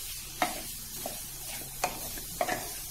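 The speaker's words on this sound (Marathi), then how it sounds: "व्यवस्थित मिक्स करून घ्यायचंय." A spoon stirs paneer bhurji mixed with crushed kasuri methi in a gently sizzling pan, with three or four distinct scraping knocks over a soft frying hiss, close by and without speech.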